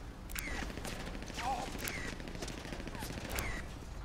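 Scattered gunshots from guns over a hill in Grand Theft Auto V, with several sharp cracks spaced a second or so apart that sound moderately distant over steady outdoor background noise.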